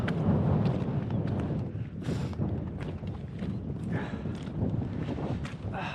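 Cold, strong wind buffets the microphone on an exposed ridge on the Isle of Skye, a continuous low rumble with gusty surges and brief flutters, heard alone without speech.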